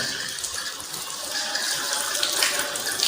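A steady stream of running water pours from a tap while arms are washed up to the elbows during Islamic ablution, a close, continuous splashing rush that swells slightly toward the end.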